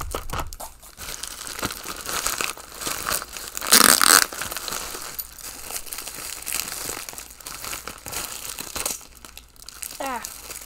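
Plastic shipping bags crinkle and rustle as small purchased items are pulled out by hand, close and fairly loud, with a sharp tearing burst near the middle and brief faint speech sounds scattered throughout.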